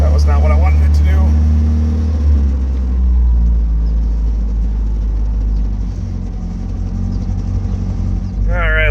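The engine of a 1976 MG Midget runs at a steady, loud, close idle rumble throughout, with a voice talking briefly over it at the start and the end.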